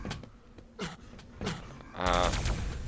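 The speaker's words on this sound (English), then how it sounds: "he's doing quite a lot of damage with the MG and actually gets the kill" A machine gun fires in the arena shooter Quake during a duel match, with rapid clattering bursts and impacts close up, mixed with other game sounds and a brief rising effect.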